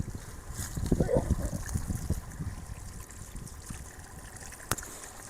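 Water is poured over raw chicken in a cooking pot, making a splashing, trickling flow that starts strong and thins out over several seconds, close by with faint background noise.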